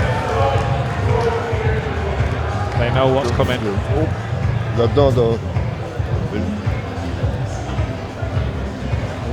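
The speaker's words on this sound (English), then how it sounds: "And the crowd, they are getting vocal behind us." Boxing arena crowd before the official decision in the Gully Powar vs Angelo Turco fight, a loud continuous roar and babble filling the hall, with a commentator talking over it throughout.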